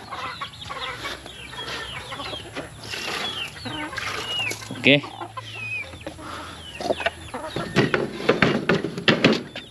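Chickens clucking and calling on a livestock farm, with repeated short clucks and rooster-like calls across the clip, some near and loud, over steady background noise and a brief spoken word.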